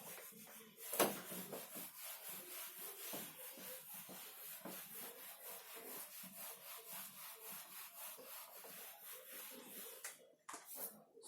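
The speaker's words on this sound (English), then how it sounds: "I must rub the board." Rhythmic dry rubbing strokes across a classroom board, steady and fairly close, repeating for several seconds with one sharp louder stroke near the start.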